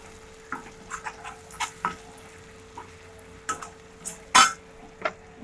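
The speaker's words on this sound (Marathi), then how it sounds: "मसाला चांगला तेलात परतून घेऊया" Quiet stirring and scraping of spice paste sautéing in hot oil in a pan over a faint sizzle, with scattered soft clicks of a spatula and no talking.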